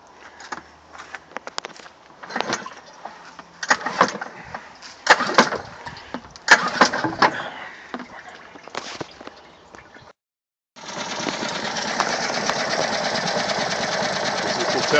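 Yamaha 4hp four-stroke outboard motor: intermittent rattling clicks and pulls come first, then after a brief silence the engine catches and settles into a steady, fast, buzzing idle up close.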